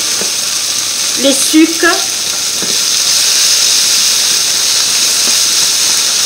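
Blood sausage sizzling in a pan with onions and apples, a steady close frying hiss throughout, with brief speech near the start.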